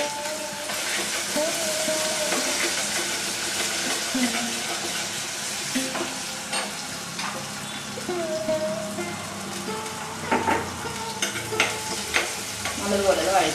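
Ingredients for a mackerel curry made with coconut milk sizzle and fry in a pan while being stirred, a steady close crackle with occasional scraping clicks and a few brief voices in the background.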